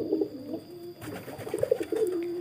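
Soft cooing of a blorok-coloured high-flier pigeon, a few low rolling coos close by with faint background hum, no voices.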